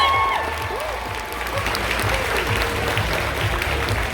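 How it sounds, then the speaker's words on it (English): Audience applause at a cosplay competition during a Masters division grand prix at Fan Expo, a loud steady wash of clapping from a large crowd that holds evenly through the whole stretch. "Give Bastet a huge round of applause."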